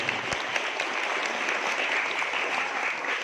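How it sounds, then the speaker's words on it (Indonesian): Dense, steady applause from an audience at an Islamic boarding school Maulid Nabi celebration, continuous clapping filling a few seconds at an even level. "Tepuk tangan dulu untuk pondok pesantren kita ini."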